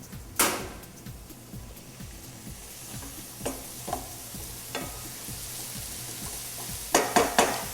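Mushrooms sauté in oil in a pan with a steady sizzle, punctuated by sharp clinks and scrapes of a utensil stirring against the metal, ending in a quick cluster of clatters; no one speaks.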